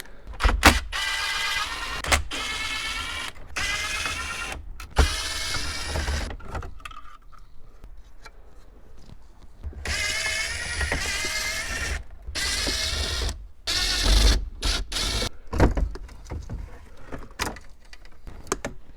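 A 7mm ratchet removing screws from a Ford F150 radio, clicking in repeated rapid ratcheting runs broken by brief pauses, close and fairly loud, with no speech.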